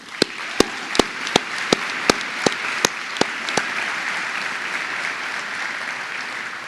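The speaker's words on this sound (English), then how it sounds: "Graduates, let's give all of those who helped bring you here a round of applause." Crowd applause at the Hiram College 2017 college commencement ceremony, a steady broad wash of clapping from a large audience, with a series of sharp, evenly spaced loud claps or knocks standing out over the first few seconds.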